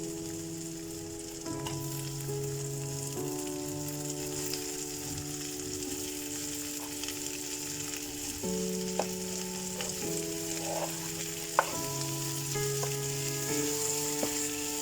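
Potatoes frying with cumin in a pan for jeera aloo: a soft, steady sizzle runs through the whole stretch under sustained melodic tones, with an occasional stirring knock.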